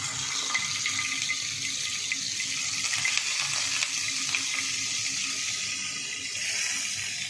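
Pieces of dry fish (endu chapala) fry in hot oil with a steady, dense sizzle and crackle that stays close and even throughout, with no voices.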